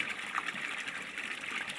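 Water trickling weakly from a well, a faint continuous dribble and splashing heard briefly and alone.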